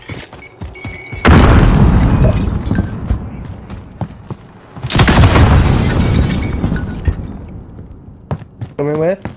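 A Semtex grenade exploding in Call of Duty Modern Warfare: a loud boom with a long rumbling tail, a second heavy blast a few seconds later, with game noise and faint voices around it.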